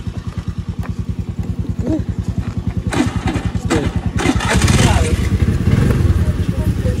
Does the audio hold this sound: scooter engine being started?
yes